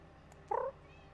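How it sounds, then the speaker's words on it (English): A single short cat meow, close and clear, rising briefly over a quiet room hum. "You're meowing at your back."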